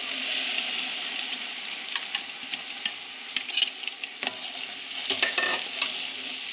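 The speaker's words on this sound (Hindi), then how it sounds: "इस ऑयल में हम लहसुन अदरक का पेस्ट ऐड करेंगे और इसको फ्राई करेंगे" Garlic-ginger paste frying in hot oil for a mutton gravy, with a steady sizzle throughout, scattered crackles and spatters, and short scraping stirs over the pan.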